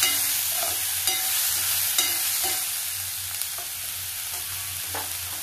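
Chopped onions sautéing in a pan with a pinch of salt give a steady low frying hiss, broken by a few soft stirring scrapes and clicks at a near, even level.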